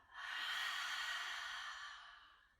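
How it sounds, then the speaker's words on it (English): A single long open-mouth ujjayi exhale, a breathy 'haaa' like fogging a mirror, swells and fades over a couple of seconds. It is close and soft, with no talk over it. "Exhale, H-A-ha, like you're fogging up a mirror."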